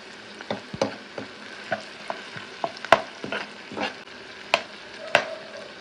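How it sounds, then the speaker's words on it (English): Chopped tomatoes cooking over a slow flame in a pan, a low sizzle punctuated by irregular stirring scrapes and taps, quiet and close with no voices. "now I have put the chopped tomatoes and let it cook on a slow flame"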